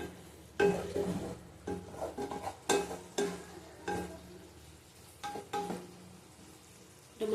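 Green chillies frying in a pan for a rohu fish dish, with intermittent bursts of clattering stirring over a low steady sizzle, close and moderately loud.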